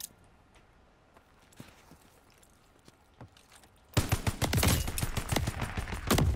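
Gunfire from a gun in Call of Duty Vanguard multiplayer, starting with scattered faint shots and then a loud dense burst of rapid firing during the last few seconds.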